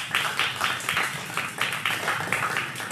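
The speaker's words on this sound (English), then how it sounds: "a round of applause for the young leader" An audience claps for a young leader at an anniversary event, a faint steady patter of applause in pulsing bursts with no voices over it.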